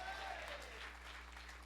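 A church congregation claps in response to the preacher, broad steady applause filling the space for under two seconds without a break.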